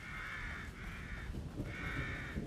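Crows caw in the video game The Evil Within, three drawn-out harsh calls over a low ambient forest rumble, fairly near and without talk.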